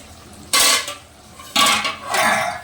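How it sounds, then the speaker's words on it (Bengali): A metal lid lifts off a cooking pot of jackfruit and prawn curry, giving two short clattering scrapes about a second apart, followed by a softer, longer metallic rattle. The sounds are close by, with no talking. "এখন আমি ঢাকনাটা উঠিয়ে দেবো"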